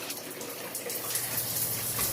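Hot water gushing steadily from a shower in a house under renovation, a continuous close hiss of flowing water with no voices over it.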